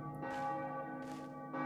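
A church bell in a video game rings three close, resonant strikes, each clang sustaining and overlapping the next, heard alone.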